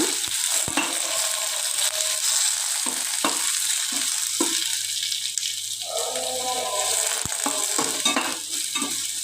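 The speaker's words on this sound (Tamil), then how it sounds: "வெங்காயம் வந்து நல்லா வதங்கி வரட்டும்." Onions sizzle steadily in a hot pan for a bitter gourd stir-fry, with occasional scraping and stirring clatters from a utensil, close and continuous.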